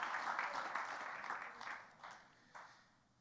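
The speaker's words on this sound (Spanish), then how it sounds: "Es una ofrenda de palmas al Señor" A church congregation claps together as an offering of praise to the Lord, steady applause that swells and fades in waves over a few seconds at moderate distance.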